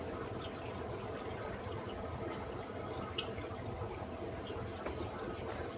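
A rose bubble tip anemone is tipped into an aquarium, giving a steady low wash of churning, pouring water that runs unbroken and fairly faint throughout.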